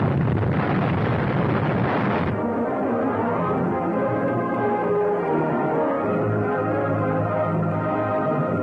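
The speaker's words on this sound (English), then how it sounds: "They're firing a bomb over in that field that's gonna blow up this warehouse." A bomb explosion blowing up a warehouse in a film serial, a heavy roaring blast for the first two seconds that gives way to a long, rumbling, crackling decay.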